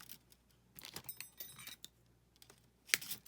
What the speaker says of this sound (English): we're going to snip it right here